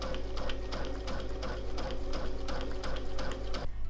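A sewing machine runs a blanket stitch around the edge of a machine-quilted piece, giving a steady, close, continuous mechanical whirr with a fast regular pulse that cuts off just before the end.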